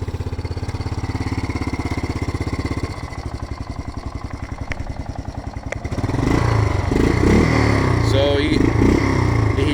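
A Yamaha Big Bear 350 ATV engine runs close by, first in a steady fast chug, then rising to a louder, rougher roar as it takes throttle, while someone talks over it.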